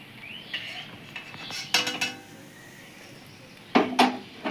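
Fried kalo jamun sweets are lifted from hot oil and dropped into syrup, with a few close metallic clinks and scrapes of a ladle against a pan in short bursts over quiet background.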